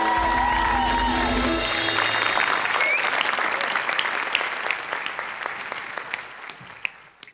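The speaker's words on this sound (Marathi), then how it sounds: "एकदा उभं राहून टाळ्या वाजवा" Loud audience applause fills a Marathi TV comedy show stage, a dense wash of clapping that swells at first, then slowly thins and fades toward the end, with a few sharper individual claps standing out.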